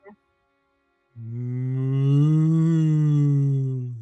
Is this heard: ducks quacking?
no